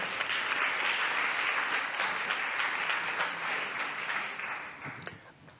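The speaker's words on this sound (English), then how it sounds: "yes, please, this applause." An audience at a neuroscience and education conference applauds steadily for several seconds, a dense even clapping that gradually thins and fades toward the end.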